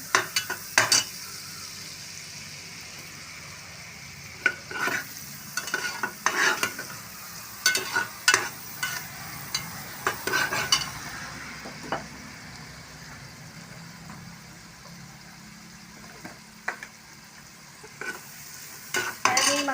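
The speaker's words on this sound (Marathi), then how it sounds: "त्याच्यामध्ये हा चॉप कांदा घालते आहे हे मी दोन कांदे घेतले आहेत बारीक कापून" Two finely chopped onions stirred and frying in a pressure cooker for pav bhaji: a soft, steady sizzle beneath repeated scraping strokes of a spoon against the pot, close and fairly quiet, with no talking.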